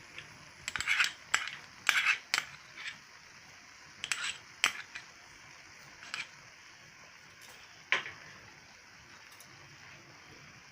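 A spoon clinks and scrapes against a pan while soybean curry is stirred with ghee, scattered bright metallic taps in short bursts over a quiet background.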